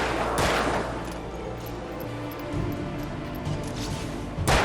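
Rapid gunfire bursts in the Alan Wake video game, loud and sustained, with a sharp crash near the start and another burst at the end over a dense, noisy background.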